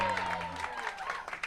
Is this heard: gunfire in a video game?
no